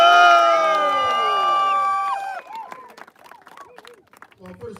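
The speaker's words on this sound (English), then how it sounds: "The Premier of Ontario, Doug Ford, the biggest cheer we can give." A crowd at an outdoor community barbecue cheers and claps for Ontario Premier Doug Ford, a loud sustained roar with whistles that fades into scattered shouts and chatter.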